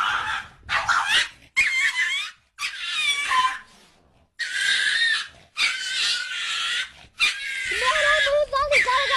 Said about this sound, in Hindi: यहाँ ये डॉगी इस बागर बिल्ले के ऊपर भौंक रहा